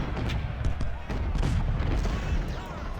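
Troops exchanging fire in Ultimate General: Civil War during a Union campaign battle: a dense, continuous rumble of massed gunfire with sharp crackling reports layered on top, loud and steady throughout.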